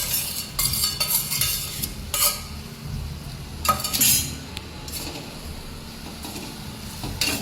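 Okra is added to a pan of gravy and stirred, with a soft sizzle under repeated scraping and clinking of a metal spoon against the pan in uneven bursts close by.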